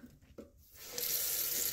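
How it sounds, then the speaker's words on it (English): A sink tap turns on and runs water over a whetstone for knife sharpening, a few faint clicks and then a sudden steady rushing splash that holds loud and even to the end. "just turn on the water"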